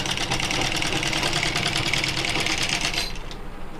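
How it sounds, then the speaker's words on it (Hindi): Sewing machine running steady straight stitches through fabric for a sleeve design, a continuous fast mechanical whir and patter that stays close and loud, then eases slightly near the end. "पहले हमने सीधी सिलाई लगानी है"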